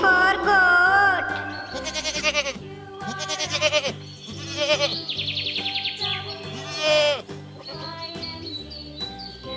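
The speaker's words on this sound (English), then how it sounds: "G for goat." A goat bleats several times in wavering, nasal cries, loud and close, set against a bright children's song backing with chirpy sounds.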